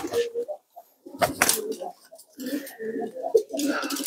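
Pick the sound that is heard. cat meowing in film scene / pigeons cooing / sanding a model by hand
pigeons cooing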